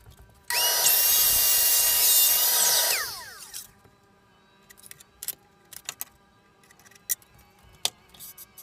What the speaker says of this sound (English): they're going to be cut on end at a 10-degree angle